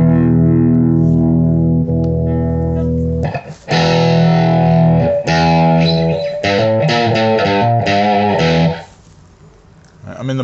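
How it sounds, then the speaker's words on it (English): Electric guitar played through an amplifier with a crunch distortion module, giving gritty sustained chords and a run of quicker picked notes, loud and up close, with a short dip before the playing trails off. "Let's try some crunch with a little module."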